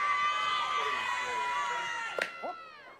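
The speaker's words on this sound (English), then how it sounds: "Now her whole team's up in the dugout cheering for her." A softball team calls and cheers from the dugout during a women's championship final, a steady crowd of voices with whoops and a few sharper shouts toward the end.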